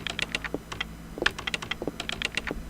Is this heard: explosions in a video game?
no